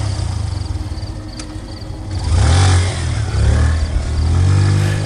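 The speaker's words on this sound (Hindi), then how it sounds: "हेडलाइट की चमक और इंजन की गड़गड़ाहट ने माहौल बदल दिया।" Motorcycle engine roaring up out of a dark, quiet night scene, its deep mid-range growl swelling suddenly and staying loud and close for several seconds, with a steady low rumble underneath.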